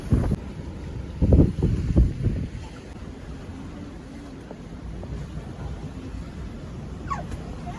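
Strong wind roars across a sailboat in rough seas with only the mainsail up, buffeting the microphone in heavy low gusts at first before easing into a steadier rushing blow.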